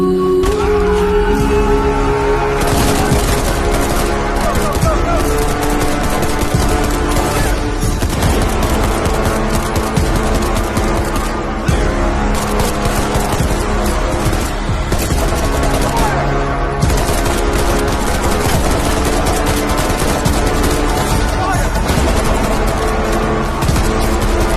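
Gunfire from a battle scene with armed men shooting, heard as dense rapid bursts and repeated shots over the whole stretch, loud and continuous, with voices speaking underneath.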